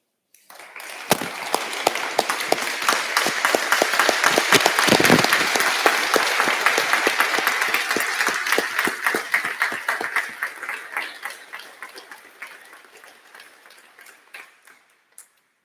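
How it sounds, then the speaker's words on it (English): A standing ovation at a launch event: dense, crowd-wide applause swelling quickly, holding strong for several seconds, then gradually thinning to a few scattered claps. "I would like you to give them a standing ovation and another clap."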